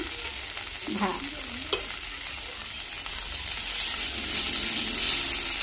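Beans and onion frying in a pan while being stirred: a continuous hiss and sizzle with soft scraping strokes near the start, close and steady, no one talking.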